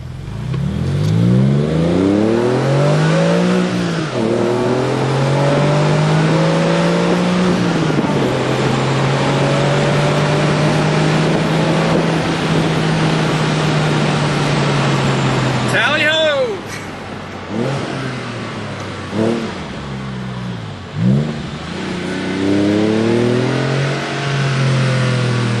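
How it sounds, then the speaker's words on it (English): A Porsche 996 Carrera with a Fabspeed Maxflo muffler accelerates hard in a high-speed drive-by, its loud engine note rising through the gears, then dropping and flaring again as it passes and fades. "High-speed acceleration drive-by. Sounds great when you're on the gas."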